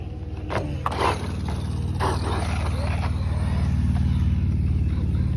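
A brushless Gorgon grom RC truck whines and rumbles at a skate park, its electric motor building to a loud, steady drone at close range, with a few faint knocks early on.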